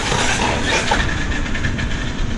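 A Traxxas X-Maxx 8s RC monster truck runs at quarter throttle with a steady, loud, close mechanical roar and rattle from motor and drivetrain that holds without a break.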